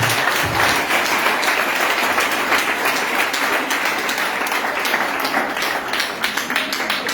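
A church congregation at a worship service in Guiglo applauds Jesus, dense continuous clapping from many hands filling the room at a steady loud level throughout.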